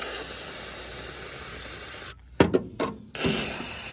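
PB Blaster penetrating oil sprays in a steady, close hiss onto a bolt on the front core support of a 1968 Ford F-100, then cuts off, followed by a few short bursts and a resumed hiss.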